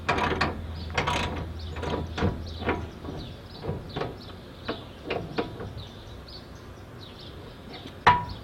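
Jack ratcheting under the front frame of a 1979 Trans Am, a series of sharp metallic clicks and clanks in an uneven rhythm, close and moderately loud, over a faint low hum.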